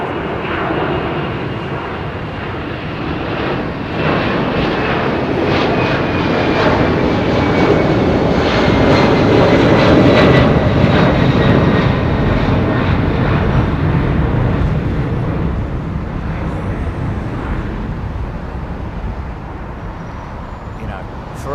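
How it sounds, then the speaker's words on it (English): A Boeing 767 with Pratt & Whitney engines takes off at Heathrow, its loud jet roar building, peaking midway, then slowly fading into the distance. "that's the true sound of aviation. It's those multi-bladed engines, soot coming out the back of those things"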